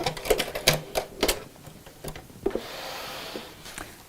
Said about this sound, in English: And just sew a little way across there.